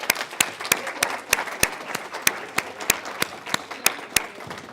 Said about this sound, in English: So let's give the Bedford people a round of applause.